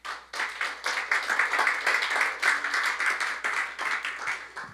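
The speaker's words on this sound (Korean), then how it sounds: "박수 한번 해주십시오." Applause from an audience in a university lecture hall, a dense steady clapping that rises quickly and holds for several seconds before fading.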